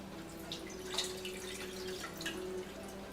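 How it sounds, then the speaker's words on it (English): Water drained from cooked olives through a strainer into a container, a close trickle with scattered drips and splashes that continues steadily at a moderate level. "drain off the water"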